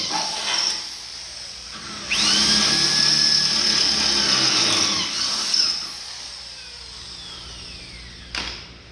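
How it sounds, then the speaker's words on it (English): A power drill bores holes for the front cab mounts of a 1948 Chevy truck cab fitted onto an S10 frame, with a steady high whine spanning a few seconds, a brief start and stop near the beginning, and a short burst at the end. "Now I can drill the other two because they're a little bit off"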